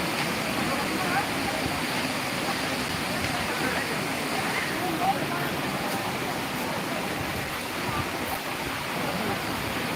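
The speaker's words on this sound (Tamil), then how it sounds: "பாருங்க தண்ணி எப்படி கொட்டிட்டு இருக்கோம்" Water pours down at the centre of a main waterfall, a dense, unbroken roar that fills the whole span at close range, with a voice faint beneath it.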